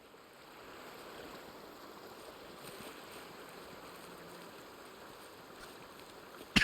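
A river flowing steadily in the hunting video game Way of the Hunter, a soft continuous rushing wash heard alone at moderate distance.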